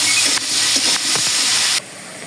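Fritters (boras) frying in oil in a pan, a steady close sizzle with a few stirring knocks, cutting quieter near the end.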